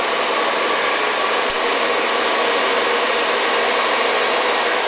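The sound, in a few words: professional hair dryer blowing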